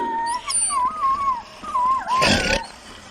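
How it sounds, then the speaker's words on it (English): Dog in a horror audio drama giving drawn-out whining, howling cries and a short rough bark or snarl burst near the end, fairly close and clear. "You can growl and transform and bark all you want to, but no attacking the guests"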